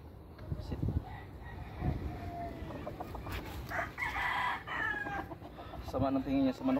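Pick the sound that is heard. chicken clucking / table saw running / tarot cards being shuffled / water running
chicken clucking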